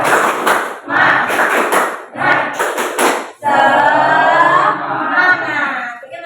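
A class of students performs the 'tepuk semangat' spirit clapping routine: loud bursts of group clapping in a steady rhythmic pattern, then the group chants and shouts together.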